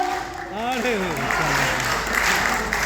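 Clapping from an audience at a Hindi poetry event rises under a voice, which fades as the applause swells and continues steadily.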